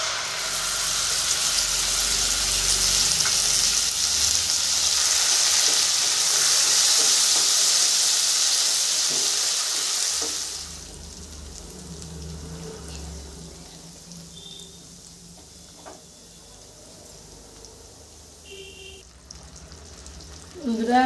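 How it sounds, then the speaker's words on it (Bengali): A paste of ginger, tomato and green chili sizzling loudly in a hot pan with a broad steamy hiss that drops to a quieter simmer about halfway, ending with a brief clatter. "2 মিনিট কষিয়ে নিয়েছি আদা, টমেটো আর কাঁচা লঙ্কা"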